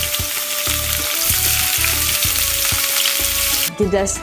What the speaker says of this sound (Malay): Kita panaskan pan dengan minyak olive oil sikit.